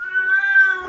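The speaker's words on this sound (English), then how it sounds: "Well, someone's cat just came in the room." A cat meows once in a single drawn-out, steady cry lasting nearly a second, close and fairly loud, in an indoor room with no voices over it.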